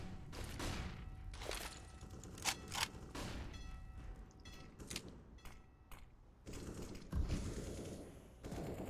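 Gunfire and weapon mechanics in a competitive Counter-Strike: Global Offensive match, scattered bursts of shots and sharp clicks among thuds, fairly quiet and uneven, with no talk over them.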